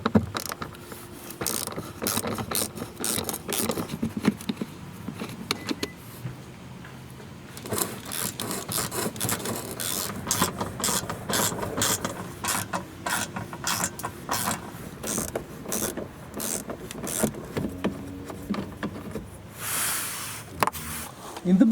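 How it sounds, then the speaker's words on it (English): Ratchet fitted with a Torx 30 bit backing out screws on a Volvo XC, a rapid rattling click that runs almost continuously in close bursts, loud and near, with brief pauses and some low handling noise. "You need Torx 30 bit to remove these ones"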